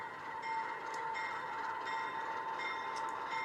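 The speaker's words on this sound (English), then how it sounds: "This is just a short tour passenger train, this is." A short passenger tour train on a mountain railway rumbles steadily past with a constant drone and faint high squeals, no voices.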